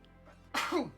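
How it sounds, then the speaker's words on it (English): A single sneeze bursts out at close range after a brief quiet lead-in, with an airy intake followed by a loud, explosive expulsion. "I'm gonna sneeze."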